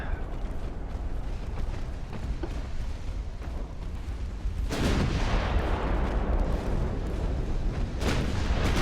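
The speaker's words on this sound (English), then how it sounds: "She just took an ammo detonation." Naval battle in Ultimate Admiral: Dreadnoughts, set off Ulsan in 1904, with rumbling gunfire building into a loud, sustained ammunition detonation roar about halfway through that stays heavy and continuous, without any talk.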